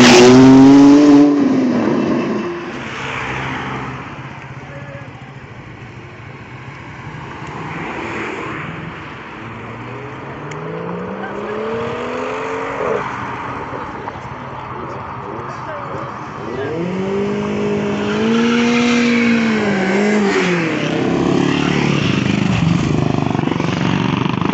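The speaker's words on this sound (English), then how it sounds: "Turbo S departing here," Porsche Turbo S pulls away at a supercar meet in Retford, its engine rising in pitch through several gears as it accelerates off into the distance, loud at first and then fading, with crowd chatter around it.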